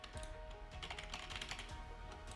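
Someone types on a computer keyboard in rapid, dense clicking, steady and close, with no talk.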